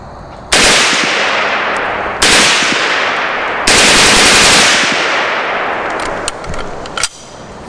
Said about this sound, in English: If you notice the gun, it stopped shooting after two rounds.